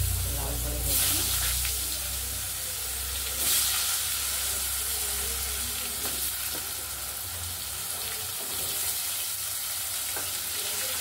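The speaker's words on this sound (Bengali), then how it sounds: "এবার এর মধ্যে আলু দেবো, আলুটা ভেজে নিই," Potatoes frying in a pan for muri ghonto, a continuous sizzle with bursts of louder spitting and a few stirring clatters, close and steady.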